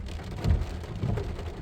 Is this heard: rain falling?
yes